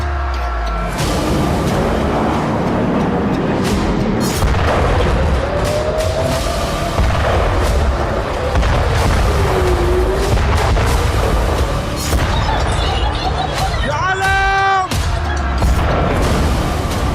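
Heavy bombing explosions from an Israeli airstrike, a continuous loud rumbling roar of blasts and booms that fills the whole stretch without pause, with no speech.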